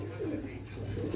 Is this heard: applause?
no